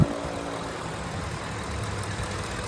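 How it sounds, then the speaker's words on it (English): A Ford F-150 Crew Cab pickup engine idles with a steady low rumble and a faint hiss, close by, with a brief knock at the start. "This engine sounds beautiful."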